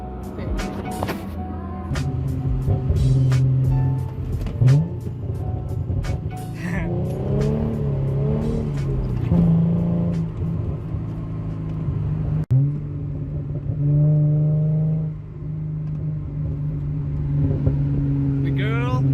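A Hyundai Genesis Coupe revs hard with crackling exhaust pops, loud and close, rising and falling in bursts, with people talking over the engine at times.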